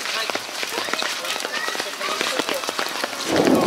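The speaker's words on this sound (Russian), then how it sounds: "Кажется, дождь усиливается." Dense, steady patter of heavy rain in a downpour in Sudak, Crimea, hitting surfaces, with scattered sharper drops and splashes, swelling louder near the end.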